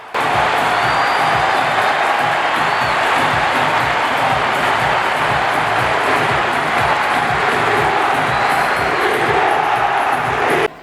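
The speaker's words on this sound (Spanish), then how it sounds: "Aplauden los integrantes del plantel hacia la tribuna" A stadium crowd at Estadio Jalisco roars and cheers without pause as the team's players applaud the stands after an elimination, a loud, dense mass of voices and clapping filling the whole stretch.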